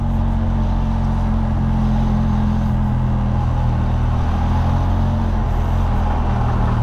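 Steady close rumble of idling and creeping engines in a traffic jam on the road to Kabul, Afghanistan, heard from inside a vehicle, loud and unbroken with no talk.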